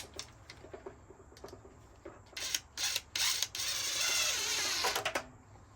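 Ground clamp being tightened during installation of a 38-gallon Rheem electric water heater, with scattered metallic clicks and creaks building into a few louder grinding scrapes and one longer rasping stretch, close by.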